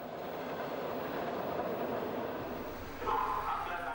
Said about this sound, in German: Im leichten Gefälle rollt der Zug nun auf Titisee zu.